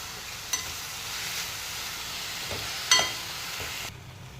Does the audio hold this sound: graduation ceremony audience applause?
no